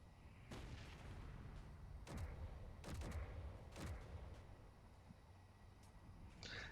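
Forward guns firing from a Super Earth Destroyer battling frigates in the Space Engineers video game, several faint, distant booming shots spaced irregularly over a low rumbling background.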